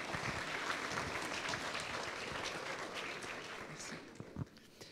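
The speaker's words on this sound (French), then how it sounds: "On peut l'applaudir" Audience applause after a talk at a French conference event, a dense steady patter of many hands clapping that gradually thins and fades toward the end.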